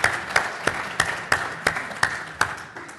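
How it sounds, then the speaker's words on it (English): An audience at a forum applauds with a steady run of claps at an even rhythm, moderately loud and without voices. "I'd like to extend a round of applause and thank Carl very much for that."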